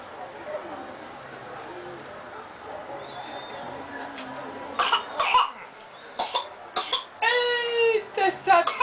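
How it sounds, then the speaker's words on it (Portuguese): A person coughs several times in sharp, close, harsh bursts that grow more frequent toward the end, with voices and background chatter around them. "essa tosse, viu?"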